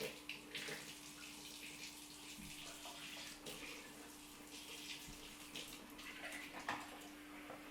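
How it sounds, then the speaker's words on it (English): Tap water running steadily into a bucket being filled halfway for homemade plum wine, a soft continuous rushing splash heard alone, fairly quiet and close. "what you got to do is just fill it up with water here"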